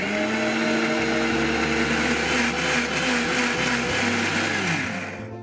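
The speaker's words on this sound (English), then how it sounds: "And now let's grind this." A blender grinds blanched spinach leaves into a puree, running as a loud continuous whirring drone close by, with the motor pitch shifting a couple of times before it winds down at the end.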